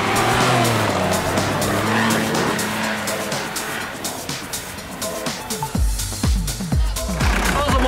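Off-road driving in a Mercedes G-Class, engine revving hard as tires skid and scrabble on loose ground, with a loud roar that drops into rougher, lower sputtering bursts toward the end.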